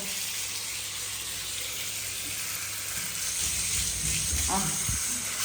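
Tap water runs steadily into a basin at home, a soft continuous hiss that swells and grows louder toward the end, with a splash or two near the close.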